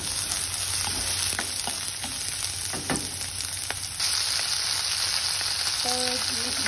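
Onion and garlic frying in a pan for a lentil side dish, a continuous close sizzle with clicks of stirring utensils, no voices.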